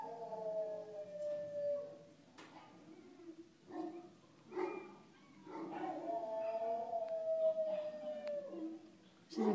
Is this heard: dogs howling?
yes